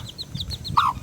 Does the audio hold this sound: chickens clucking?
yes